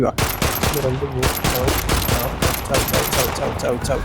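Rapid bursts of gunfire ring out in a dinosaur horror video game, loud and dense, with shots in quick succession and a voice talking over the action.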